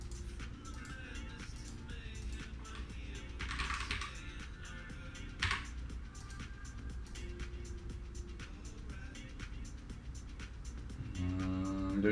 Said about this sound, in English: I'm prompted with a login, and we just type in our credentials.